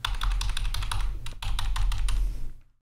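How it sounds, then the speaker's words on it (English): Arrow keys on a computer keyboard are pressed in quick, repeated clicky taps, two short runs of keystrokes close to the microphone, then stop into silence. "You can select the handle and use the arrow keys on your keyboard."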